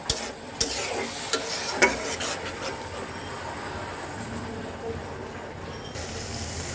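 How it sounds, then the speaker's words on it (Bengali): Spice masala with mixed vegetables fries in a pan, giving a steady sizzle, while a spoon scrapes and stirs in a few sharp clatters early on. "এখন সব কিছু একসাথে মিক্স করে দিলাম আর এখন এটাকে ঢেকে দেবো"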